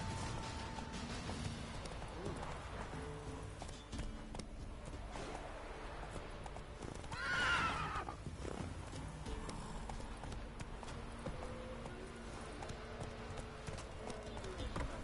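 Roach, the horse in The Witcher 3, gallops with a steady muffled clip-clop of hooves under continuous ambient game sound, and a brief whinny rises in the middle.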